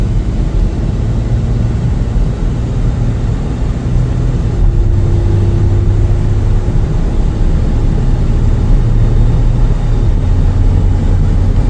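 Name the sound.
2016 Ford F150 XL pickup driving on test drive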